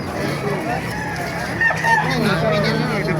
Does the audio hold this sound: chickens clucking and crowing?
yes